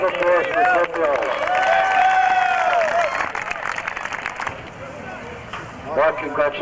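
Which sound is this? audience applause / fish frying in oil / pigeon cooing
audience applause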